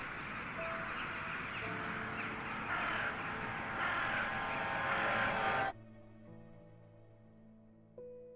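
Ravens in the game Strange Horticulture cawing in repeated harsh cries over a hazy, swelling ambient bed, which cuts off abruptly into a quieter tonal drone.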